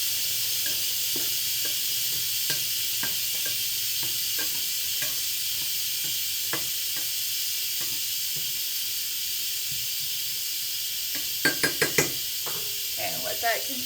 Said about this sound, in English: Or hit the steam valve.